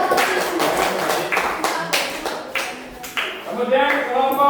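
A classroom of students claps together after a group presentation, a quick burst of individual slaps that thins into a few scattered claps, fairly close and without talk over it.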